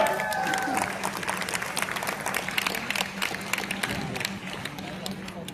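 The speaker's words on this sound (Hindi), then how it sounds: "मैं चाहूंगा एक बार जोरदार तालियां।" Loud, dense applause from a crowd at a Vestige Marketing company event in Hyderabad, sustained throughout, with voices and cheering mixed in.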